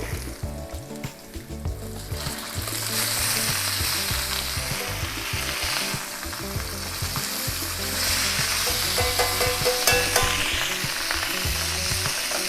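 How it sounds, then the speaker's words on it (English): Cajun blackened salmon sears in a hot pan after being flipped, giving a steady loud sizzle with crackling spits throughout, alone without talk. "this is a Cajun pan-seared salmon, basically blackened salmon"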